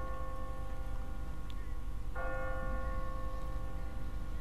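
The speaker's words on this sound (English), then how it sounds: "What kind of church bell goes off at 20 past the hour?" An automatic church bell in The Walking Dead video game rings with sustained, ringing tones under a constant background drone, a fresh strike arriving partway through.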